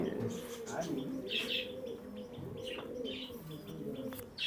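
Indian and Pakistani breed pigeons on a farm coo steadily nearby, low rolling calls running throughout, with a few brighter chirps from other birds mixed in.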